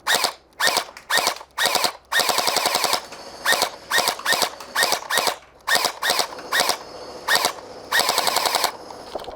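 Nerf Gelfire Mythic gel blaster firing on full auto with the barrel removed: rapid mechanical bursts of shots, some short and some sustained, loud and close, with brief pauses between strings.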